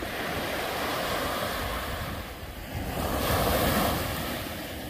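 Surf washing onto a long, flat beach with clear water, a continuous broad roar of breaking waves that swells and eases, with wind buffeting the microphone and no voices.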